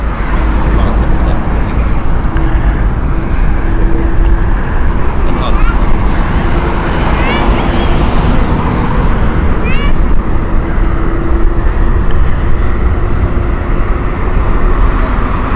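Boeing 787-10 airliner, three years old, passing at Heathrow Airport in heavy winds, heard as a steady, loud broadband jet roar with wind buffeting throughout and a faint low hum underneath.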